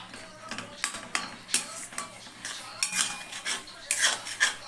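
Chopped mangoes for pickle are stirred and tossed by a metal utensil, making irregular clinks and scrapes against the container in short, uneven bursts.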